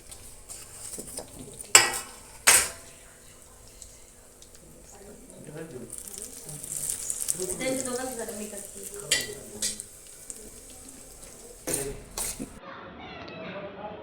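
A spoon stirs oil into a Khandeshi-style raw mango pickle mix with turmeric, chili and fennel, giving sharp clinks against the bowl and soft wet scraping, while a voice keeps talking throughout.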